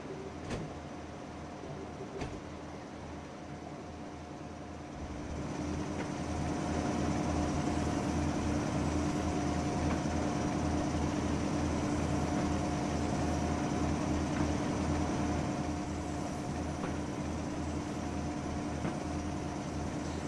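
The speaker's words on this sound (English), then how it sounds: "We're just struggling to get this train up this 1 in 48 gradient." A train struggling up a 1 in 48 gradient at Hatchet Hill Quarry in Train Simulator 2015, heard as a steady low rumbling engine drone that grows louder after a few seconds and continues without talking.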